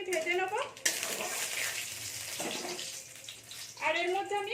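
A dry red chilli, a bay leaf and about half a spoon of cumin sizzle in hot oil, a steady broad hiss in the middle with a voice talking just before and after.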